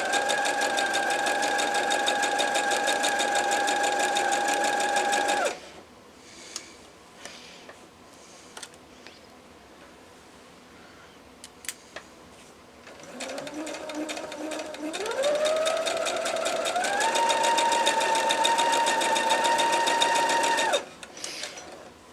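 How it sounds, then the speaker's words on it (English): A sewing machine stitches a Lone Star quilt block in two long even runs, motor whirring steadily and ramping up in pitch, with a quiet gap of small handling clicks between them. "this is not speed demon sewing"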